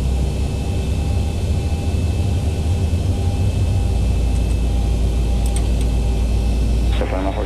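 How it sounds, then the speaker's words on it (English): A steady aircraft engine drone from the X-Plane 11 flight simulator, on a flight from Frankfurt to Copenhagen, hums continuously and loudly throughout, with brief radio-like chatter near the end. "let's start the engine"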